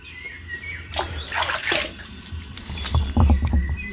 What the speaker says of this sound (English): So I'm going to rinse off here.